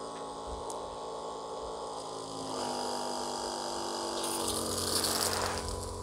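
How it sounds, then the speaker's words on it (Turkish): A hydrophore water pump in a Suzuki Carry mini camper van hums steadily with a mechanical whine, growing slightly louder partway through, alongside faint rattling; no voices. "Efran, hidroforun o tuşuna bassana"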